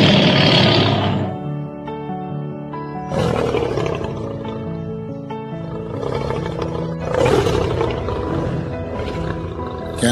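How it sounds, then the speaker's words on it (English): A lion roars in the wild at Masai Mara, Kenya: several deep, loud, drawn-out roars in a rhythmic series with short pauses between them, close and alone without talk. "A roar of a lion"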